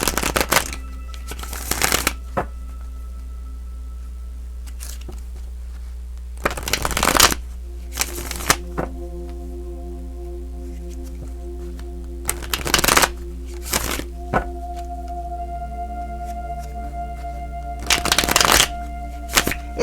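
Tarot cards are shuffled in several short, loud riffling bursts, separated by quiet pauses over a steady low hum. Faint tonal background sounds run underneath.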